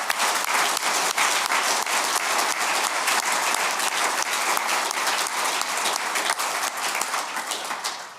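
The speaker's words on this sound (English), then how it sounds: "So maybe we can give a round of applause." Sustained, steady applause from a conference audience at the EASA general aviation safety conference closing session, a dense wash of many hands clapping for about eight seconds and tapering slightly at the end.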